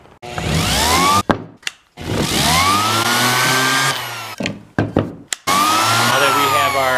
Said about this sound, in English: now we just got to sand the legs down smooth